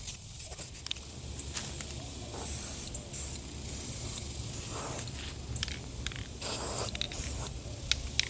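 A spray gun hisses steadily while painting parts during a Speedex restoration, a continuous fairly quiet spray with brief pauses and small breaks throughout.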